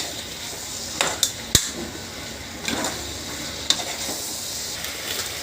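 Spiced mutton curry for Chettinad kulambu is stirred in a pan, giving a steady sizzle with a few sharp scraping knocks of the spoon against the pan, close and alone without talk.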